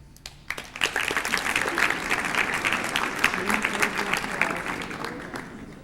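An audience at a senior academic recognition ceremony breaks into sustained applause, a loud, dense wash of clapping that rises quickly and holds steady throughout.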